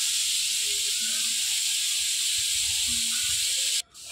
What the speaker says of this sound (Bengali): ভাতটা হয়ে গেছে, ভাত উতরাচ্ছে।